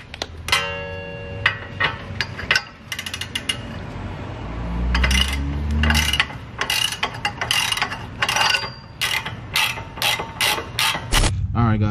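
A socket ratchet works a car's wheel-side bolt loose with quick metallic clicking bursts and clanks of tools, close and fairly loud, coming in short irregular spurts with brief pauses.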